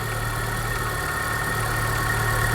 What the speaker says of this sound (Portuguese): E tem um ruído aqui do motor